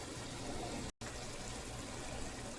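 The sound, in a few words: water added to frying spices for keema biryani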